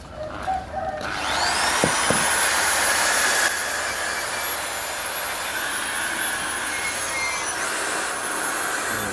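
A steady high-pitched electric drill whine runs continuously with a gritty abrasive hiss as it sands paint off a brake caliper, close and loud, after a brief quieter start.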